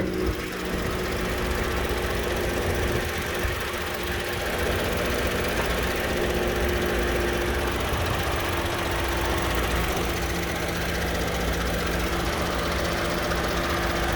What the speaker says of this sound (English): So there's the engine.